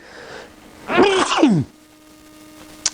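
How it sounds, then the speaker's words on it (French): A single loud, close sneeze with a quick drawn-in breath before the burst, followed by quiet room tone and a small click. "je crois que je vais éternuer"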